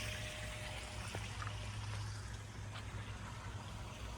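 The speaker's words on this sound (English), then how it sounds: "The water feature's nice. It's definitely nice to have something that you can hear." A garden water feature at a house trickles quietly beside tropical plants, a soft, steady patter heard from nearby under faint background hum, with no one speaking.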